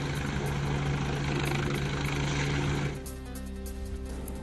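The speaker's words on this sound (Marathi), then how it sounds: "मैदानात पार्किंगसाठी असलेल्या जागेवर हेलिकॉप्टर उतरलं।" A helicopter landing in a vehicle parking ground, its steady rotor and engine roar loud and continuous, dropping slightly in level partway through as the engine note changes.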